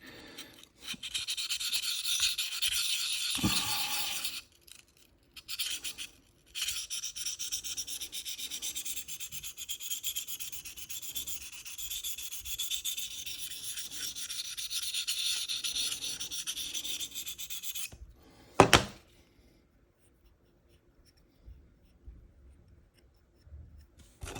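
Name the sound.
knife blade rubbed on a Sharpal field sharpener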